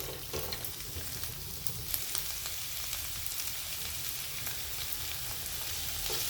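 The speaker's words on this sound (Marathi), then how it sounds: "याला एकदा या मसाल्यामध्ये आपण परतून घेऊ" Vegetables for a Navratri fasting dish being sautéed in a ground spice masala in a pan, giving a soft continuous frying sizzle with light stirring scrapes, no voices.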